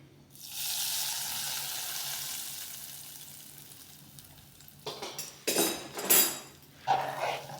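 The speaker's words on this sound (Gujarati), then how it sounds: "આ બધો જ વઘાર આપણે હલાવીને અંદર રેડી દઈશું" Hot spiced tempering hits rice and gram flour handvo batter with a loud rushing hiss that slowly fades, followed by clattering spoon-on-pot stirring bursts.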